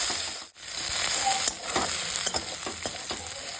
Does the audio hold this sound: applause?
no